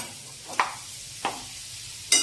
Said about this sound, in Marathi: ही भाजी आपण चांगली परतून घ्यायची